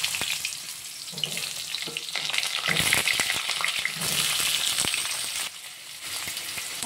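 Potato pieces fry in hot oil spiced with whole cardamom, cinnamon, cloves and cumin for a Bengali chicken kosha, a close, continuous sizzle broken by scraping stirs and brief louder crackles.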